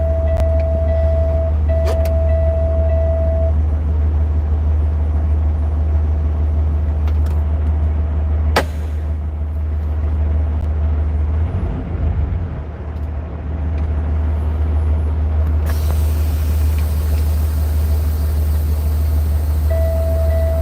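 A truck engine idles with a deep, steady rumble inside the cab in winter, with a faint whine, a sharp click and a brief grinding shift as it fails to go into gear.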